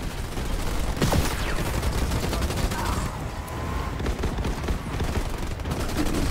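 Enemy vehicles fire in the Halo Wars 2 real-time strategy game, a dense, continuous clatter of gunfire and explosions with some sharp louder bursts over a busy battlefield din.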